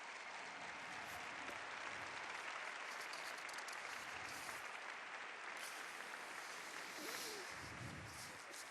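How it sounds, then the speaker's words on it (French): A large audience at a Neocatechumenal gathering applauds new families, a dense, steady roar of clapping that fills the whole stretch without fading. "diamo un applauso a questi"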